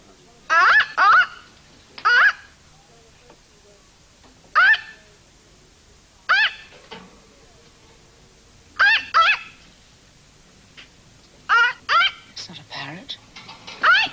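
A mynah bird calls in short, sharp bursts scattered across a quiet room, several loud squawks and chattering phrases with silent gaps between them, some sounding like a voice.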